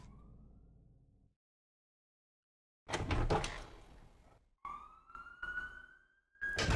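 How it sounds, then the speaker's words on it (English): A siren in the Resident Evil 0 video game rises and wails in a high tone, preceded by bursts of clattering game noise and a brief silence. "Siren."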